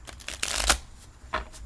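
Large playing cards are shuffled by hand at night, a few quick riffle bursts with a louder crisp riffle in the middle and a shorter one toward the end, close and alone without talk.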